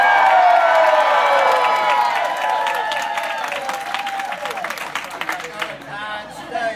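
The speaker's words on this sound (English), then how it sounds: "This was the largest applause I heard last night" A large crowd applauds and cheers loudly at an evening event honoring Jeremy's commitment to the University of South Carolina, with whoops rising over steady clapping that slowly thins, and voices chattering throughout.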